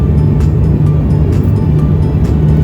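Turboprop engine of a Hokkaido Air System airliner in flight over Sapporo, heard from a seat just behind the propeller: a steady, loud cabin drone with a low, constant hum and no voices.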